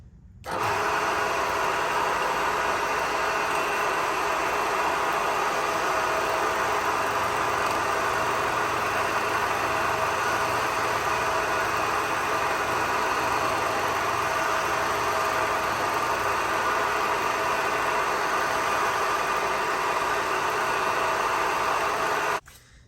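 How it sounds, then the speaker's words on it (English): A milling machine cutting built-up weld material on a junkyard Harley-Davidson Knucklehead engine case, producing a steady, loud mechanical whir that runs unbroken for over twenty seconds. "Okay, here goes this milling operation."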